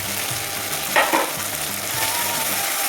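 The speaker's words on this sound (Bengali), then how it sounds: "তেলটা যতক্ষণ মশলা থেকে না বেরোবে ততক্ষণ আমি কষিয়ে" Onion and tomato masala for a desi chicken curry frying in released oil, a steady close sizzle with a brief burst of louder stirring near the middle.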